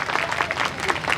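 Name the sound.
audience applause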